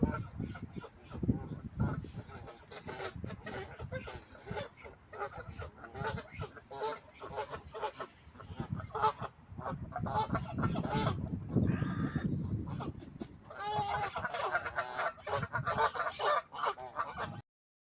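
Coots on a lake in an autumn woodland at Hainault Forest give repeated honking, squawking calls, some overlapping, at moderate distance over faint ambient noise throughout.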